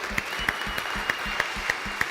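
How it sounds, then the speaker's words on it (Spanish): Church congregation applauding for the Lord, a steady patter of clapping hands with rhythmic sharper claps standing out, moderately loud and continuous. "démosle un aplauso al Señor"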